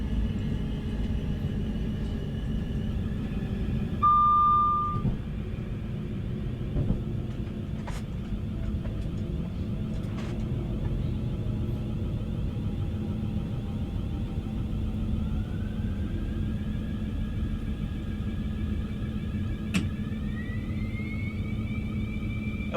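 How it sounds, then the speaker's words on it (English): Class 700 train in a train simulator game braking, with a rising, whining brake squeal and steady low rumble from the running train; thin high tones slide upward and sharp clicks punctuate the continuous drone. "It honestly sounds almost like a jet plane, that brake squeal"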